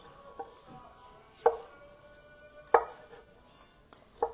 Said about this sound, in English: now we got the olive. And I want to cut this in half